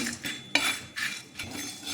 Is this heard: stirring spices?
yes